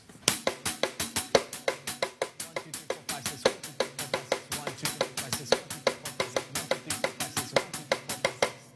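A quick, evenly alternating six-note bembe beat of sharp hits, played solo on a drum kit at a steady tempo, moderately loud and close.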